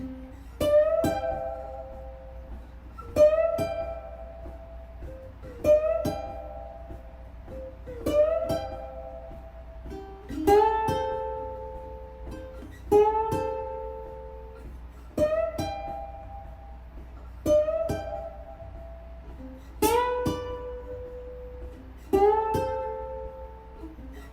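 Two ukulele strings sound together with a sliding pitch, in ten evenly spaced strums that each ring out and fade. No voices.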